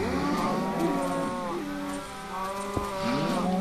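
Cattle on a Minecraft cattle farm moo in several long, drawn-out calls that overlap and follow one another, loud and close, with no talk.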